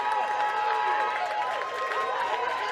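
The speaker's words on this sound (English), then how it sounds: "And you can hear the crowd loving that run." Spectators at a club rugby sevens national tournament cheer and clap after a run for a try, a moderately distant crowd roar with some whistling tones, sustained throughout.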